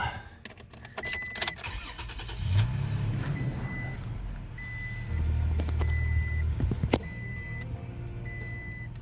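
A 2021 Toyota Tacoma SR pickup with about 15,000 miles cranks and starts, its engine settling into a steady low idle, with short chimes and faint clicks over the top and no talk.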